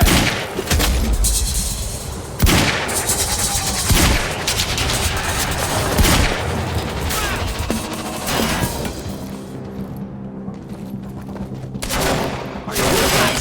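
Gunfire in Quantum Break, loud bursts of shots and heavy impacts repeating across the scene, with crashes and shouting voices mixed among the fusillade.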